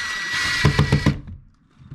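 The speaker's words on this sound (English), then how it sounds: "I just put my screws in." Power drill driving screws to secure a window air conditioner unit in a window: a close, steady whirring run that ends in several rapid clicking pulses, then stops to near silence, with no talk.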